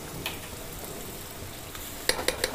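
Garlic ginger paste fries with onions in a home kitchen pan, giving a steady low sizzle throughout, then a few sharp clinks of a spoon stirring against the pan near the end.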